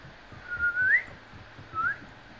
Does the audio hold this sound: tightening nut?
no